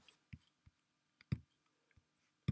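Sparse, crisp computer mouse clicks in a quiet room, about half a dozen short taps at irregular intervals, close and fairly soft.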